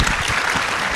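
Loud, dense round of audience applause closing a panel discussion at the RINC 2025 conference, many hands clapping steadily and close with no pause or speech over it.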